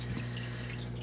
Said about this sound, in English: that is the water draining out